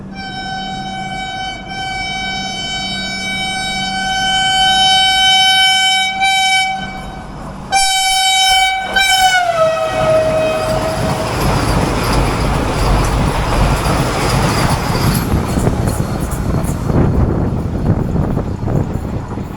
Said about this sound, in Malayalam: എല്ലാം വളരെ പെട്ടെന്ന് വന്നു പോയി വന്ദേ ഭാരത്.